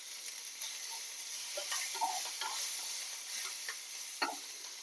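Chopped green chilies and grated turmeric fry lightly in hot oil, a soft continuous sizzle punctuated by sharp crackles and the scrape of stirring, close by with no talking.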